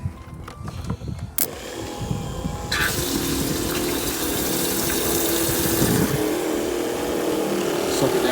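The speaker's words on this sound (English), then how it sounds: "I'm gonna flush out my pump" A pressure washer pump being flushed with fresh water for a soft wash job at an elementary school: after a few clunks, a steady rushing, pumping wash of water builds and holds, loud and continuous.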